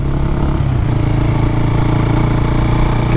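A Husky 401 motorcycle with the catalytic converter removed, cruising gently at low revs around 34 mph through villages, giving a steady, close, droning engine note with no throttle blips and no talking.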